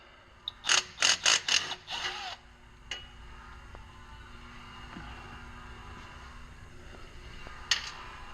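A hand ratchet clicks rapidly in several short, close bursts while loosening bolts during a transmission shift kit install on a Ram R/T, then a low hum with one more brief click near the end.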